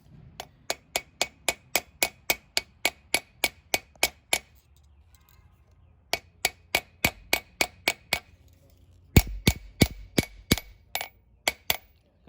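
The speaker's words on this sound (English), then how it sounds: "Get it on the old guillotine here" Steel is hammered on a blacksmith's guillotine tool while separating a trail knife tang, giving sharp close metallic blows in a steady rapid rhythm, a brief pause, then more strikes, some heavier and deeper.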